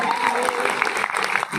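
Audience clapping at a live Hindi love-song performance: dense, steady applause lasting the whole moment, with a voice carrying over the top.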